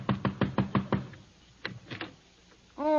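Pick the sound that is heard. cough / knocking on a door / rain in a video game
knocking on a door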